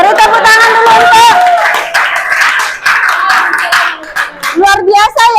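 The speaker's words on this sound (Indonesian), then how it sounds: "Beri tepuk tangan dulu untuk" Students in a classroom clap for a group's presentation, a rapid patter of hands close by, mixed with children's and teachers' voices talking over it.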